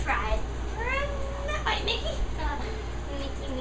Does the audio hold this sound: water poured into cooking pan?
no